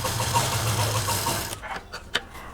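A sewing machine stitching quilted scrap fabric pieces for a hand purse, running in a steady close whir for about a second and a half, then stopping and leaving a few light clicks and taps.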